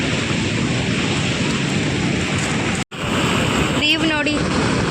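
Forceful rushing water at Haluvagilu waterfall gives a dense, steady roar heard up close. It cuts out for an instant midway, and a voice briefly speaks over it near the end.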